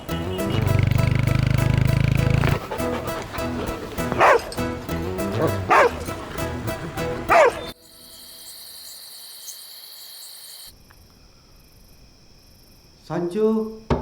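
A dog in a Malayalam film scene barks several times close by amid people talking, then the scene cuts to a quiet night backdrop of chirping crickets.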